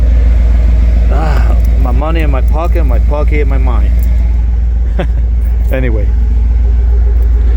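A car exhaust fitted with a Cherry Bomb muffler idles with a quiet, deep, constant rumble beneath someone speaking close by.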